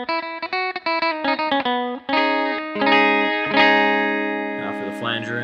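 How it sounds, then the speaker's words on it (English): Clean electric guitar on the bridge pickup, on a guitar fitted with a single coil and a humbucker, playing a run of bright picked single notes that moves into sustained ringing chords, up close and alone. "that's the clean sound. And this is the bridge pickup, first clean."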